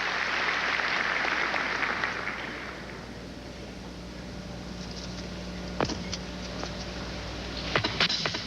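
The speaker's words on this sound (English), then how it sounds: "when you play a polka, people clap hands. As they're doing in Moscow right now." An audience in Moscow at the 1986 Goodwill Games applauds after a polka encore. A dense burst of clapping fills the first two seconds, then fades to a quiet hall with a few scattered knocks and clicks.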